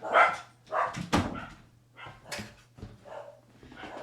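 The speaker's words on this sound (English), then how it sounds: "My dogs are barking quite ferociously." Several dogs indoors bark ferociously in a house, loud repeated bursts of barking in an irregular series with short gaps between them, close by.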